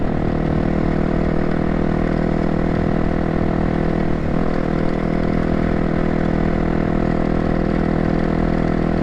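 A dirt bike engine idles steadily up close, a loud, even chugging hum that holds constant throughout with only a brief wobble midway.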